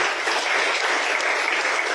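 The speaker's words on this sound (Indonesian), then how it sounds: "Tepuk tangan bagi Tuhan Yesus." A church congregation at a Good Friday service bursts into loud, dense applause for Jesus, continuous clapping sustained evenly across the whole moment.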